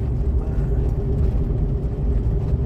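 Suzuki Karimun Kotak city car driven over paving in an upscale housing estate, a steady low engine hum and tyre rumble that stays fairly level rather than rising sharply.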